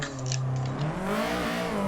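A formula car engine in a sim-racing drift game revs high and steady, its whining pitch wavering up and down as it holds near the top of its range; no talking.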